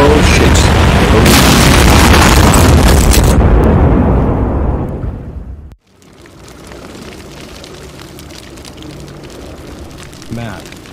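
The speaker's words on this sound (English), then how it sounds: "I never seen this explosion engulfing us before" A huge rumbling video game explosion roars loudly for several seconds and then fades away, leaving a quieter lingering ambience with a faint thud near the end.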